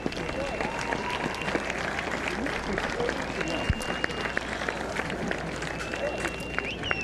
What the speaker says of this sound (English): And a nice round of applause as Knorr will walk off.